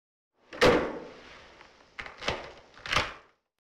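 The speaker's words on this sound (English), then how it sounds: "the librarian picking up her bag and getting her keys and locking the door behind her" A librarian shuts and locks a door, heard as a loud close thump followed by a pause and then several rattling clunks of the key and lock, up close in a quiet room.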